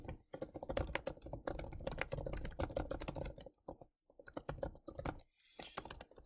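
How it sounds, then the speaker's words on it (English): Rapid typing on a computer keyboard, dense clattering keystrokes in close bursts with a few brief pauses, no voices. "So I could actually type the word true in there"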